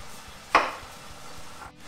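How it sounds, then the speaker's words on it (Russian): A single knife cut through a peeled tomato on a board, one short sharp chop standing out against quiet kitchen background while a paella is being prepared. "режу второй помидорчик."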